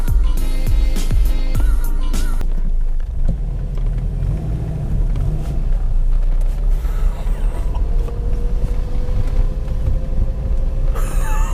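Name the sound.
Subaru with swapped 6-speed manual driving on first drive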